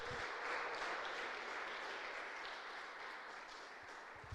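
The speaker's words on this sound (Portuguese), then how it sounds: "Aplauda ao Senhor essa noite." Congregation applauding during an evening church service, a steady wash of many hands clapping that holds evenly for the whole stretch, fairly faint and distant, without speech over it.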